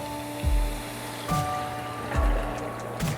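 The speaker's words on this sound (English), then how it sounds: "I am adding some water to it." Water poured into prawn masala in a pan, a few short splashing gushes in separate bursts over a steady hum, with no talk.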